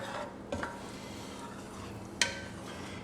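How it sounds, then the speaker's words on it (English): A sauce of meat and sugar being stirred in a single pot for spaghetti, with soft scraping and a gentle bubbling simmer, a brief spoon knock near the start and a sharper clink of utensil on the pot near the end. "Give that a quick stir."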